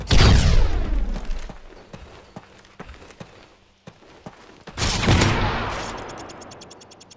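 A flashbang goes off during a Search and Destroy match in Call of Duty Modern Warfare 3, a loud booming burst amid scattered gunshots and quick footsteps, then a second heavy blast that rings out and fades.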